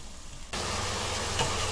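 Diced carrot, tomato and beef frying together in a pan for a Malaysian fried spaghetti, a soft steady sizzle that jumps louder partway through and then holds evenly.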